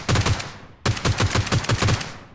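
Rapid bursts of G36C rifle fire at targets in PUBG Mobile, two quick strings of evenly spaced shots separated by a brief pause, loud and close.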